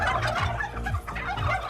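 Turkeys gobble in a dense, loud chorus of rapid warbling calls, overlapping continuously and close at hand, with no talking.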